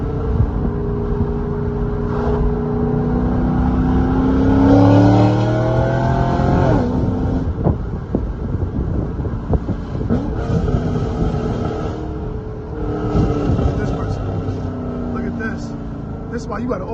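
A C6 Corvette fitted with a cat-back exhaust and catless headers rumbles and revs while driving on a hot Orlando road, its loud engine climbing through gears and falling back, with a voice talking over it in places.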